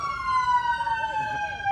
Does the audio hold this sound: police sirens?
yes